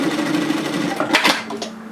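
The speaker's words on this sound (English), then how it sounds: "I'm just going to very quickly tack stitch this together just at the center." A sewing machine runs a quick tack stitch across the center of a sweater's knit pieces, a steady close whirring hum with a short burst of faster stitching near the end, no voices over it.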